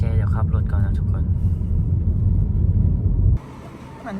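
A car's engine rumbles steadily from inside the cabin, a loud low drone that holds for about three seconds before dropping away abruptly, with a brief burst of speech near the start.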